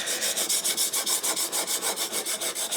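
Something is worked back and forth over a 600 grit diamond sharpening plate, making a loud, close, gritty rasp in an even rhythm of roughly six strokes per second, with no voices.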